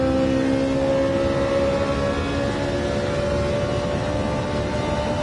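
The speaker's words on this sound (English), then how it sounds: "love the sound off the 458" A Ferrari 458 engine drones steadily in Gran Turismo 7 online racing, a sustained tonal whine holding a near-constant pitch throughout, with no sharp revving changes and no one talking.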